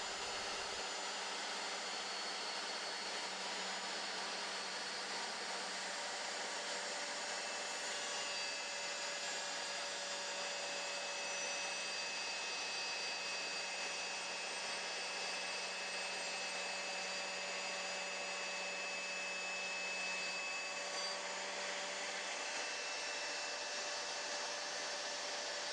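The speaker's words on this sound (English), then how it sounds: "Allow the saw to reach full speed and then slide it into the workpiece." A GMC laminate saw runs steadily at full speed while cutting a workpiece, a constant, fairly faint motor whir that holds evenly throughout with no voices.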